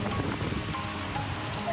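Heavy downpour over the Godavari river belt in Gangakhed taluka, Parbhani, a steady dense hiss of rain hitting surfaces, loud and continuous for the whole stretch with no voices.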